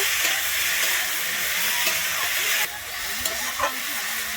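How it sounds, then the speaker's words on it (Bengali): Boiled banana flower frying with tomato in a pan for a Bengali dal dish, a steady loud sizzle and hiss that drops slightly partway through, with faint stirring scrapes. "আমি মোচাটা দিয়ে কিন্তু এখানে এক দু মিনিটের জন্য আমি ভেজে নিয়েছি"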